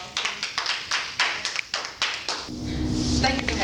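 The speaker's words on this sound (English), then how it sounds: "give a round of applause and welcome Miss K Dog" A small audience breaks into brief clapping, opening as scattered individual claps and swelling into a steady round of applause in an indoor room.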